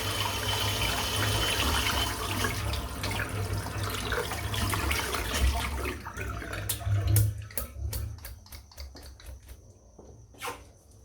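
Water runs from a tap over a boar-bristle shaving brush being rinsed out, a steady splashing flow for about six seconds that then breaks into scattered drips and trickles, close and moderately loud.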